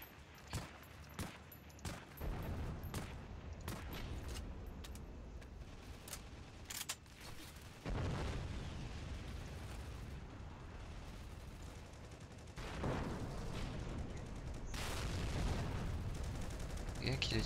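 Gunfire on a Heroes & Generals battlefield: a rapid string of sharp shots opens, then dense overlapping volleys and bursts, some near and some distant, roll on over a steady battle din.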